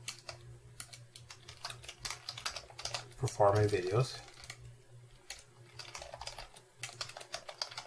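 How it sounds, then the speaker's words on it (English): Rapid clicking of computer keyboard keys runs throughout, with a person speaking briefly over the typing partway through. "Just fast forward past my typing, okay?"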